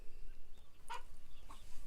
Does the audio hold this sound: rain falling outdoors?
no